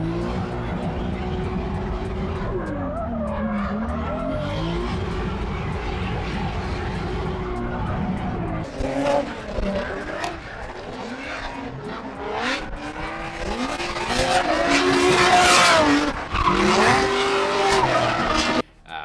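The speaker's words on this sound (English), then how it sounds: "I got to do a drift ride along. I've never ridden in a drift car before." Drift car tires squeal and skid in long, wavering screeches over a roaring engine that rises and falls, loud and close throughout, heard from inside the car.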